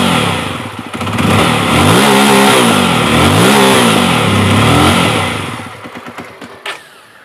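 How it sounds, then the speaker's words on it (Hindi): A 2023 Jawa 42 motorcycle engine is revved loudly up close, rising and falling through several throttle blips before dropping back toward idle, with no talk. "अब इसको रैव करते हैं।"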